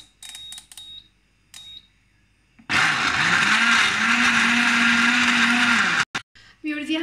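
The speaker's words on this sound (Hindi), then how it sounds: "हमने इसको ब्लेंड कर लिया है।" An electric blender mixes a chilled summer drink with ice cubes, starting abruptly into a loud steady whirring roar for about three seconds, then cutting off, with a voice speaking before and after.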